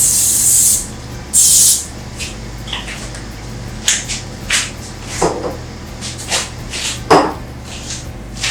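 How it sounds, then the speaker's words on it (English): Non-stick cooking spray hisses in loud bursts into a 13 by 9 baking pan, two strong sprays followed by shorter scattered spurts and light rubbing, with no talk. "you're just going to take any non-stick cooking spray with the 13 by 9 baking pan, cover the sides and the bottom"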